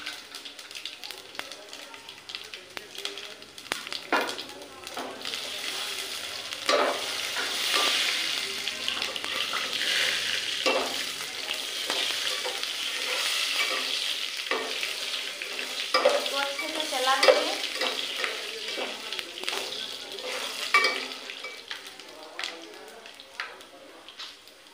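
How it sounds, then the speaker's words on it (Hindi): Spices fry in hot oil in a kitchen pan, giving a steady crackling sizzle broken by the scrape of stirring, while someone talks over it throughout. "मेरा तेल गर्म हो चुका है, जो भी मसाला रहेगा आप डालेंगे"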